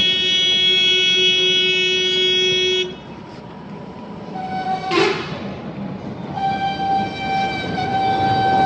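The Ooty toy train sounds a long, loud horn blast, falls quiet briefly amid a low rail rumble, then gives a sharp toot and a second sustained horn, close by and without talk.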